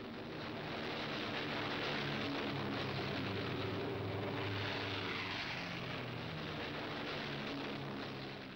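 World War II bomber engines drone in flight in a bomber squadron, a steady, loud, unbroken propeller roar that fills the whole span without any break.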